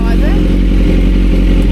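A Kawasaki Z900 motorcycle engine runs at a steady idle, a loud, close, continuous low rumble, while people talk over it.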